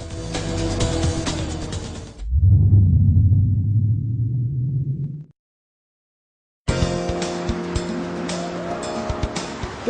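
Race cars roar in a sustained burst with tire squeal, cut off by a gap of silence, then engine noise returns loud and close.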